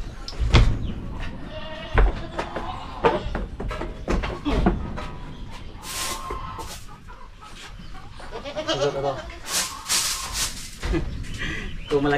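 A farm goat bleats loudly several times at close range among rustling and other farmyard noise, with people's voices and chicken sounds mixed in.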